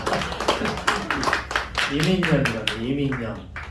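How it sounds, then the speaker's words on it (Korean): Several hands clap in a quick burst of applause while a voice speaks over it, during a New Year's Eve church service. "박수를 치면서"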